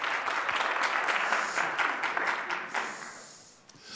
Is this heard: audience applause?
yes